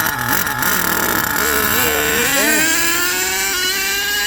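An HPI Savage RC truck with a three-speed gearbox runs in second gear, its nitro engine whining loud and close and climbing in pitch as it speeds up, with no talking.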